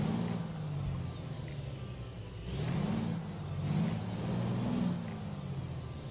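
Truck engine in American Truck Simulator turning over and settling into a steady low rumble, with a whining tone sweeping up and down above it and brief swells in loudness.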